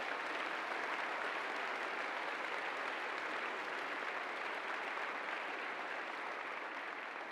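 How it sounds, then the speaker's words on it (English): Steady applause from a school assembly audience honoring two Eagle Scouts, a dense, even wash of clapping that holds at full strength for the whole stretch with no voices over it. "Join me in giving them a round of applause."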